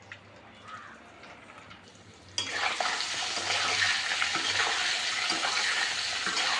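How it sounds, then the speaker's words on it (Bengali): Eggs rubbed with turmeric and red chili powder frying in oil: faint kitchen noise gives way to a sudden loud, steady sizzle that continues close up, with light crackling. "এখন ডিমটাকে ভেজে নেব।"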